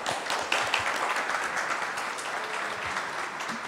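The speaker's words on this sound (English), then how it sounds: "I want to thank and applaud the panelists." Conference audience applauding security panel panelists at a forum on European security, the EU and NATO, a full room of close, loud clapping with sharp individual claps standing out and slowly easing.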